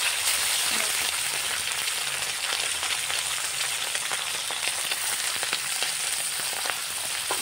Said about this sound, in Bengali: গরম কড়াইয়ে তেল দেওয়া হয়েছে, এবার মাছগুলোকে এক এক করে ছেড়ে দেওয়া হচ্ছে।